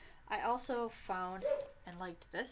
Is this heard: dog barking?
yes